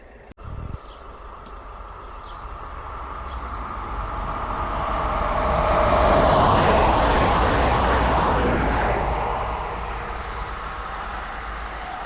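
A high-speed train runs through without stopping, a broad rushing roar that swells to a peak around the middle and slowly fades, with no voices over it.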